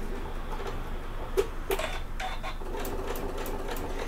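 A sewing machine stitches a fabric bag, a steady mechanical whirr running close and continuous, broken by a couple of brief louder clicks.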